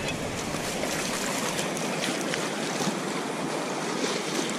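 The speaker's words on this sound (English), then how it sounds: "Water's coming." Ocean surf washes in over a flat Oregon beach during a summer minus tide, a loud, continuous roar of water and foam mixed with wind buffeting the microphone.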